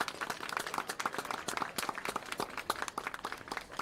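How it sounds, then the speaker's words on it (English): Crowd applause at a Dixie Belles World Series softball game, dense and steady clapping from many hands that carries on without a break, with no voices over it. "Let's all give them a huge round of applause"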